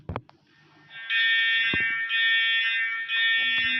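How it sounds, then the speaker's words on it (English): A school fire alarm rings loudly and continuously with a harsh electronic tone, starting about a second in after a few brief knocks and dipping briefly twice before resuming. "this is a fire alarm"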